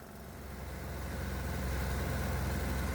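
A small 196 cc, 3 hp diesel engine fitted with a modified intake manifold runs steadily, a low, even chugging drone that stays close and constant throughout with no voices.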